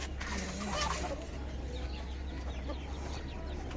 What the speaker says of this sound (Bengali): এই হলো আমার দেশি মুরগি